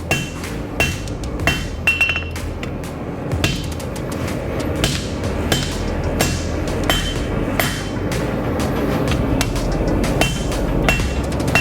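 Repeated hammer blows forging a chunk of very hard high carbon steel, loud sharp metallic strikes in an irregular steady rhythm with ringing clinks, close by and continuous throughout.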